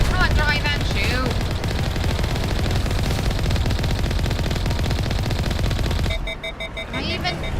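Sustained, dense automatic gunfire in the Mass Effect Legendary Edition video game, loud and continuous rapid bursts for about six seconds, then a brief lull with electronic tones before firing resumes.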